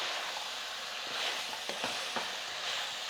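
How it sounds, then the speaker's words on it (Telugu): Chicken fries in a pan for a Telangana restaurant-style dry chicken fry, a continuous close sizzle with a few soft stirring knocks in the middle, and no one speaking. "ఇప్పుడు దీన్ని ఫ్రై చేస్తున్నా చూడండి"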